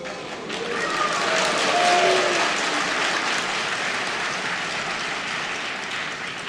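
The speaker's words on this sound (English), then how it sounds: "She's booed." A crowd booing at an awards ceremony, a broad wash of audience noise that swells over the first couple of seconds and then holds steady before easing slightly.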